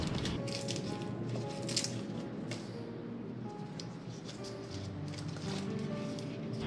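Hands crumple and squeeze fresh pandan leaves, giving a steady, close crinkling and squishing with rustly bursts throughout.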